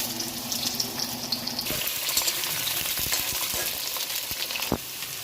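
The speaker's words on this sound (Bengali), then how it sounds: "আলুটা একটু ভাজা ভাজা করে তারপরে বেগুনটা দেবো।" Potatoes fry in oil in a pan with bay leaf and five-spice seeds, giving a steady loud sizzle with sharp crackles and the occasional clatter of stirring, with no voices.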